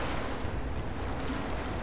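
Water draining in the Rise of the Tomb Raider video game, a steady low rushing wash of water with a broad surf-like roar, continuous and moderately loud.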